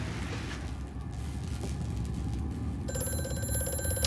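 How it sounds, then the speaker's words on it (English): An old telephone rings in the horror game Amnesia: A Machine For Pigs, starting partway through as a steady electronic trill that rises out of a low, droning ambience. "Phone ringing."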